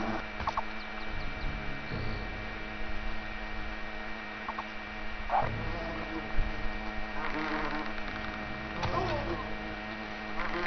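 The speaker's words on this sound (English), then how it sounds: "Those are some big ass wasps." Giant wasps buzz in the video game Fable, a steady droning hum with intermittent game sounds and occasional voices.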